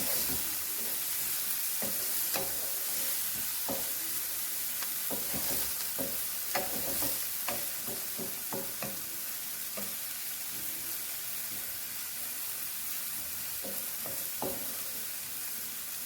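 Shrimp sautéing in a hot pan for shrimp and grits, a steady loud sizzle with frequent crackles and pops running throughout, no talk.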